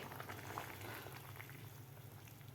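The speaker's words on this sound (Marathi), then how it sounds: "भाजीला आपल्या उकळी आलेली आहे" Potato bhaji curry bubbling in a pan at a boil, a soft continuous burble of liquid with faint popping, quiet and steady throughout with no voices.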